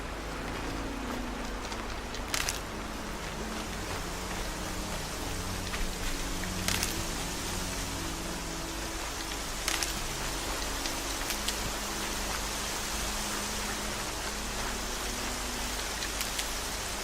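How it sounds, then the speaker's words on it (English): Steady rain pours down in the game Horizon Zero Dawn, a continuous hiss of drops with occasional sharper splashes and a low rumbling bed underneath, with no voices. "And it's starting to rain,"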